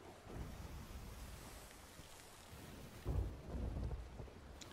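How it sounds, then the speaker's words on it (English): A thunderstorm rolls in at sea in the pirate game Sea of Thieves, with rain and surf washing steadily and a deep rumble of thunder swelling around the three-second mark, no voices present. "That storm is just rolling up on us here."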